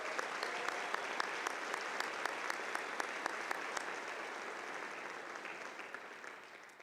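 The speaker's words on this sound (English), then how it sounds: "Please join me in a round of applause." A large crowd applauds at a university spring commencement ceremony, a dense, sustained roar of clapping with crisp individual claps, steady throughout and slowly easing off.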